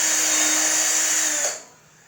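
A cordless screwdriver drills a pilot hole in a decorative board, giving a steady high whine for about a second and a half before spinning down and stopping abruptly.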